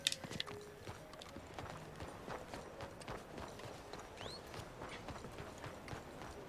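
Horse hooves clip-clop at a steady walking pace in the video game Red Dead Redemption, fairly faint, with a few sharper clicks and a soft background ambience.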